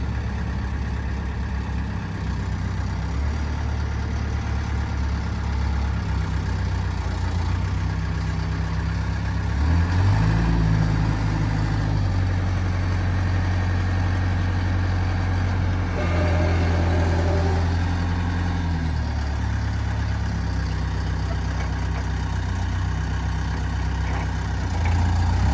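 A 2006 JCB 930 rough terrain forklift engine idles in a steady, low diesel rumble, close and continuous, with slight shifts in pitch partway through and no talking.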